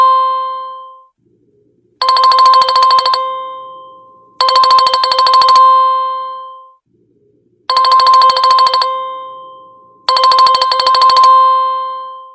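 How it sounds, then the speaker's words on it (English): A chat message notification rings on a computer in four repeated bursts of bright electronic tones, each lasting about a second, separated by short gaps. "it is just ringing, letting me know that I have a message."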